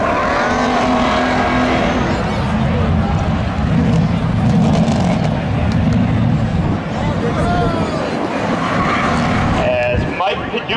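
A 1985 Chevy Corvette and a 1991 Camaro drag race at Seekonk Speedway during a Labor Day spectator drags event, engines roaring loud and steady under a public-address announcer talking throughout.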